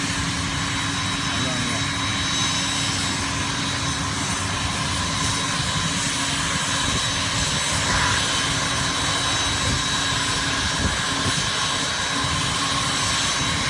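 A jet aircraft engine runs steadily near an arrest scene, a loud continuous broadband roar with a high whine holding through the whole stretch, while voices speak faintly underneath.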